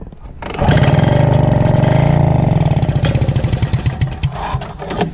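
A flooded two-stroke hovercraft engine, bought cheap, catches and revs hard under full throttle, a loud sustained buzzing roar that wavers and sputters unevenly toward the end.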